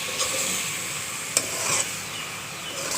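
Cabbage with tomato and carrot stir-fries in a pan as a steady close sizzling hiss, with a sharp utensil knock in the middle and light scraping throughout.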